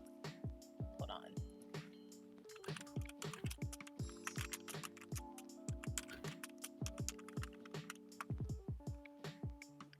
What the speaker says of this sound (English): Sorry if y'all heard all that clacking